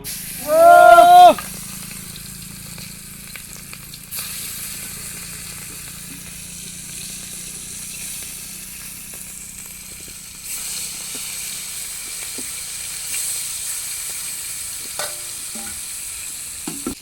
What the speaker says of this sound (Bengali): কড়াই গরম হয়ে গেছে হ্যাঁ তো এখন চিংড়িটা দিয়ে দেবো